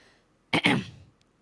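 A single short, raspy throat clearing, close and sharp, followed by silence.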